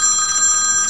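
A telephone rings in a workshop during guitar tuner installation, a steady bright electronic bell tone filling the whole second at close, loud level with no talk.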